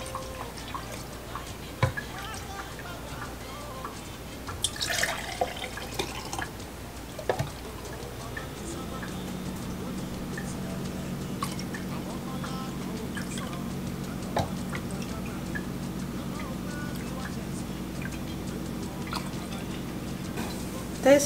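Juice drips and patters in small, faint ticks as it is poured and strained, scattered drops falling onto a counter over a low, steady background hum.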